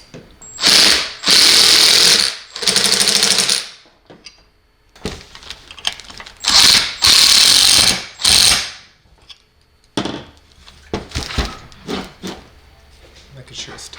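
Mallet blows tap against metal hardware while assembling an explosion-proof motion sensor, model EXP-MS-N4X-AT-LV, a few loud close bursts separated by pauses, with a voice talking in between.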